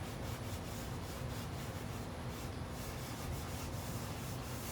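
Scrubbing with the rough abrasive side of a sponge on a dirty surface, a continuous soft rasping rub that stays even and fairly quiet throughout with no pauses or talk.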